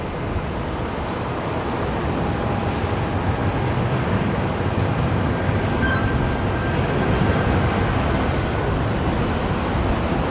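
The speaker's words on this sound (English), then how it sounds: "we see the Jetstar 320 touching down" A Jetstar A320 airliner touches down at Brisbane Airport at night in rainy weather, heard as a loud, steady broadband roar of engine and rolling noise with faint tonal whines, continuous and fairly close.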